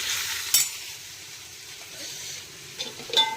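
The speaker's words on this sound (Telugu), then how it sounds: "ఇంకొంచెం కూర వేసేస్తున్నాను, బెండకాయ ఫ్రై" Okra frying in a pan gives a steady, soft sizzling hiss, with a few brief clatters near the start and end.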